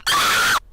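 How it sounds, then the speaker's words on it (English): Harsh, distorted scream sample for an electronic deathstep track, a single loud, sustained shriek lasting about half a second that cuts off abruptly. "It could be a good scream,"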